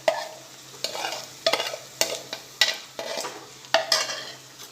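Marinated vegetables are stirred into sautéed onions in a pan for veg biryani. A low sizzle sits under about seven distinct, sharp scrapes and clacks of the spoon against the pan, close-up with no voices.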